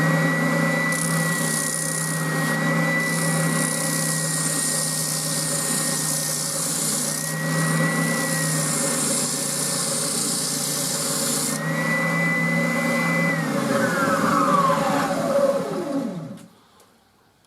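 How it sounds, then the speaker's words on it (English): A Triton TSPS 450 spindle sander grinds steadily against a piece of pine with no dust extraction, a loud continuous abrasive rasp over a motor whine that winds down to silence at the end. "I've got a little bit of pine here, so I'm just going to try and sand it"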